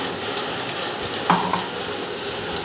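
Chilli, tomato and garlic paste is added to a pan and sizzles at a low level, with a brief clatter of stirring near the middle.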